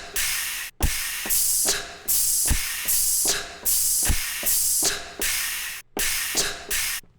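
Synthesizers blast a loud, harsh industrial-style noise: dense hissing walls of sound in repeated bursts roughly a second long, each ending in a brief cut or thump before the next surge, with no talking.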